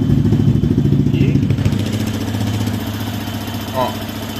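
A Yamaha XTZ250X motorcycle engine idles nearby with a steady, low, throbbing rumble and a light mechanical clatter, while a voice talks over it.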